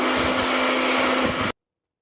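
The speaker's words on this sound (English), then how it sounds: "Overall, this slim dry sounds great, feels great." A slim dry hand dryer blows steadily and loudly with a constant airy roar and a low hum, then cuts off abruptly partway through.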